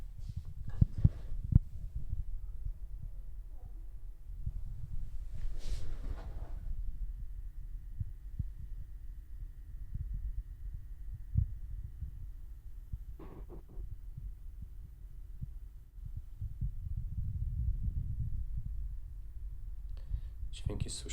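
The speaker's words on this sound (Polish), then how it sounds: "Dźwięk jest słyszalny nawet z odległości 80 cm, bo tyle siedzę od monitora" An LG 45GX950 monitor's cooling fan gives off a low, steady hum during normal desk use, picked up from about 80 cm away. Faint scattered clicks and rustles sit over the hum.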